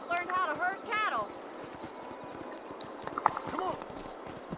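Horse hooves clip-clopping in the video game Red Dead Redemption, a steady rhythmic trot under talking voices, with cattle-herding sounds in the background.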